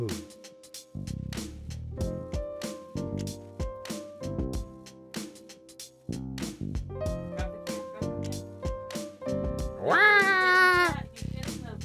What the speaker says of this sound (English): Oh, he's purring again.